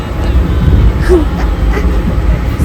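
A moving train in the Konkan region, a loud, continuous low rumble of rolling wheels and carriage rattle, with faint voices in the background.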